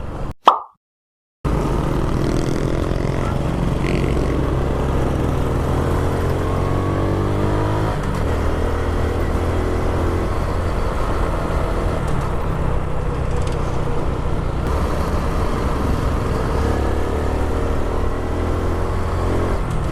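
A Honda XRM 125 motorcycle carries its rider on a longer road trip, the steady engine drone and wind rush holding loud and constant after a brief thump at the start.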